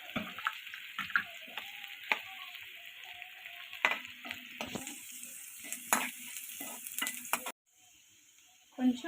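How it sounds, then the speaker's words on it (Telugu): Ginger garlic paste frying with onions in a pan, a quiet sizzle broken by repeated stirring scrapes and clicks that stop briefly before one last scrape. "ఇది పచ్చివాసన పోయే వరకు వేపించుకున్నాం."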